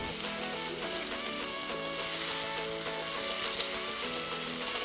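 Paneer cubes fry in a pan and are turned one by one with a spoon, giving a continuous, even sizzle with faint stirring movement underneath, and no voices.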